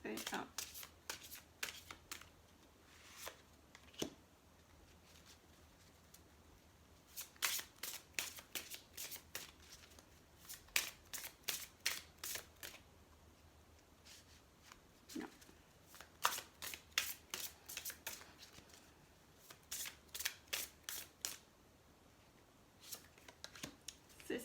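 Tarot cards are shuffled in quick riffling bursts, several clusters of sharp flicking snaps separated by pauses, close and crisp, with a voice speaking at times between them.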